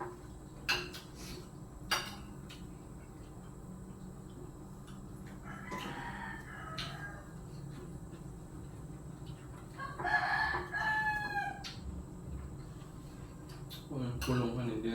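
A rooster crows twice near the middle of a quiet home setting, fairly distant, amid faint clinking of dishes and scattered sharp knocks; no one speaks.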